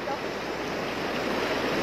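Floodwater rushing through a flooded area during a typhoon disaster, a continuous loud broadband roar of moving water with no breaks.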